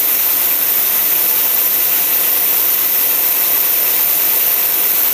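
Carburetted Cadillac engine running steadily on a dynamometer, a loud, continuous broadband roar with no breaks or changes in pace and no talking.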